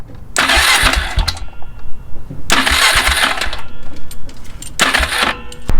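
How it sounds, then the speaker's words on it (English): A Polaris Sportsman 400 ATV engine cranks over in three separate bursts, each a loud, close, rhythmic churning of the starter that does not catch, with short pauses between them. "I'm going to crank the engine over and just confirm that."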